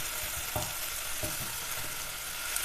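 Crushed ginger and garlic sauté in hot oil for a Kerala-style squid roast, a steady close sizzle broken by a few soft stirring scrapes, with no talking.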